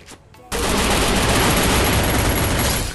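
Gunfire in a video game shooter erupts after a brief quiet moment into a loud, dense, continuous barrage that holds steady until the end.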